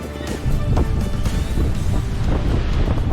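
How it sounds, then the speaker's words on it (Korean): Strong coastal wind in Colombia rumbles heavily against the microphone without pause, with a wash like surf from waves near a breakwater underneath. "바람이 많이 분다."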